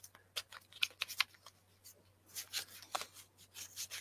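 Tarot cards being shuffled by hand at a table, giving soft riffling and rubbing bursts in short irregular clusters, fairly close and quiet, with no talking.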